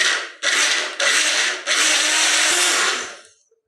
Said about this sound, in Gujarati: આપણે આ બધું મિક્સરમાં ગ્રાઇન્ડ કરીને એનો પલ્પ રેડી કરી દઈશું